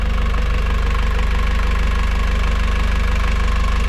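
A diesel engine in the cockpit of a sailboat runs loud and close with the hatch open, giving a steady, rhythmic knocking idle that holds unbroken throughout.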